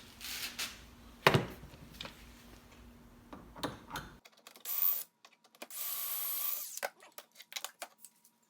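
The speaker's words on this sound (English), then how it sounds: "Now I'm drilling the holes in the end pieces that will go into these" A power drill bores holes in wooden end pieces for a coffee table, with short bursts of drilling and clicks, followed by scraping and tapping, close and moderately loud.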